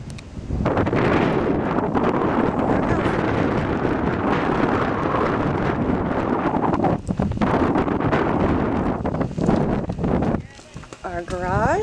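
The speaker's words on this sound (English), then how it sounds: "Windy day." Strong wind buffets the microphone in a constant roar, easing briefly near the end, with a voice speaking through it.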